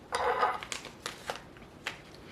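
A subscription tea package is opened up close, with quiet crinkling of packaging and a few sharp paper rustles and snips in short, irregular bursts.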